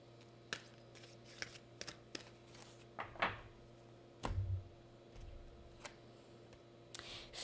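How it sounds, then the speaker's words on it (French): Oracle cards are shuffled and drawn in a quiet room: sharp, sparse clicks and flicks, a brief riffling rustle, then a soft thud and a few more light taps. "J'ai envie d'aller chercher une carte oracle des couleurs."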